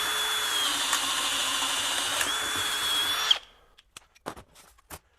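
Hercules HCB92B 20V hammer drill driving a 1-inch spade bit at speed 2, a steady, strained high whine for about three seconds that cuts off abruptly, followed by a few faint clicks and knocks, close up.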